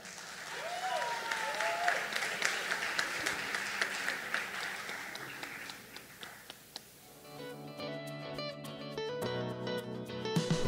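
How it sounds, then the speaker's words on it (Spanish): Audience applause welcoming a student speaker at a university literature concert, a dense steady clapping wash lasting several seconds before giving way to piano-like music with a voice. "Vamos a recibir a Cristian con un fuerte aplauso."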